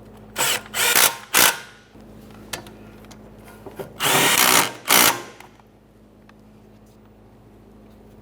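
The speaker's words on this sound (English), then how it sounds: "For those two 10mm headed bolts, just go ahead and snug those up as well." A power tool snugs 10mm mounting bolts on a 2015-2019 Subaru Outback during a rear upper control arm job, giving several short, loud whirring bursts with brief pauses between them.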